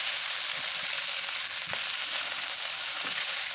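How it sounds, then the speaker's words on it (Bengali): Fresh sea fish frying in hot oil, giving a steady close sizzle with a few soft crackles and pops throughout. "এক সাইডে মাছগুলো একটু ভাজা করে নেব"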